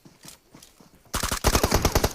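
Video game gunfire from Free Fire: after a quiet stretch of faint shots, a loud rapid burst of automatic fire erupts and continues in dense repeated cracks to the end.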